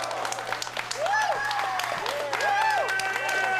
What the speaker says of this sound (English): Hearing the applause of the fans in attendance here in Berwyn